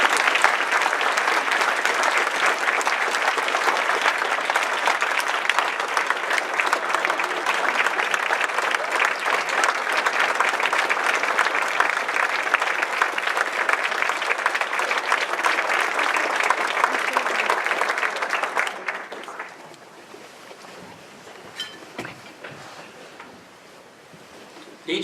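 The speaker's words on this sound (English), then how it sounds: "give a round of applause to all the men and women serving today" Sustained round of applause from a banquet crowd of alumni honoring service members, loud and dense for about eighteen seconds before dropping off to scattered faint claps and room noise.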